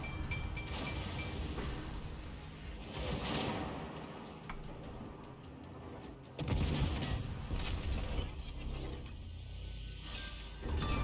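Naval gunfire from the Akatsuki destroyer in a warship video game, repeated bursts of loud booming salvos with rumbling gaps between them, heavy impacts returning in the second half.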